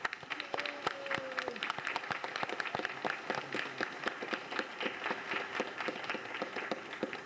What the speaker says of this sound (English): Let's give a nice round of applause for our newly confirmed.